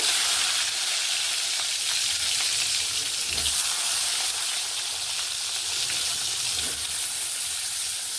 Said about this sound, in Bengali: কড়াইতে তেল গরম হচ্ছে এবার বেগুনটা দিয়ে দেবো